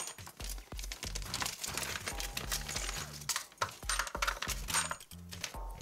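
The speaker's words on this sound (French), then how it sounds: "nous allons ouvrir notre sachet numéro 1" A plastic parts bag from a Yokomo DP DPRH Imadoki alpha RC drift car chassis kit is opened close up, with crinkling plastic and the clicking, rattling clatter of small parts shifting inside.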